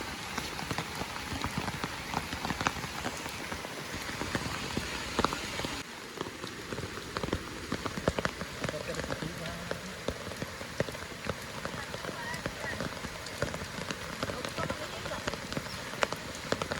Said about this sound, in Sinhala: තාමත් වහිනවා හයියෙන්ම මේ මැස්ස පායලම නැහැ මෙහෙට.